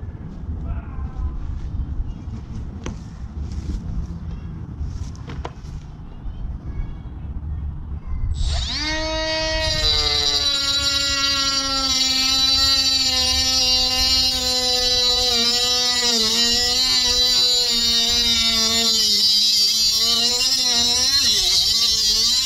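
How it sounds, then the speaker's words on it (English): A Dremel rotary tool spins up after some handling noises, then whines loudly and steadily at high speed while cutting, its pitch wavering slightly under load. "Now I'm going to use the Dremel."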